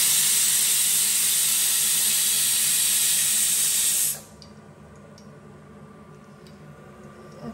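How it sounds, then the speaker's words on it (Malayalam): A pressure cooker on a home kitchen stove releases its whistle, a loud, steady rush of hissing steam lasting about four seconds. It stops abruptly, leaving a quiet room with faint ticks. "കുക്കർ വിസിൽ വന്നിട്ടുണ്ട്"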